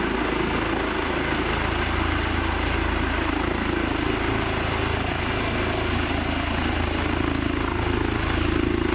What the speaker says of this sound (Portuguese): o barulho do helicóptero é facilmente identificável